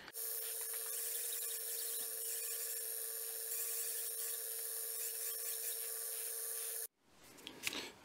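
A belt grinder with a scalloped belt sanding the handle of a kitchen knife forged from a rusty leaf spring, a steady close high-pitched whine and rasp running for about seven seconds before stopping, followed by brief handling noises.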